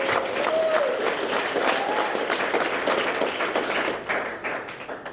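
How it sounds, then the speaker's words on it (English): An audience at a graduation ceremony claps for the graduates, a dense, sustained round of applause from a crowd that slowly thins toward the end, with a brief voice early on. "give them a big round of applause"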